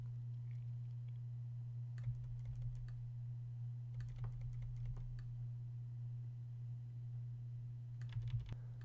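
Scattered keyboard key presses click in small bursts against a steady low electrical hum, fairly quiet and close.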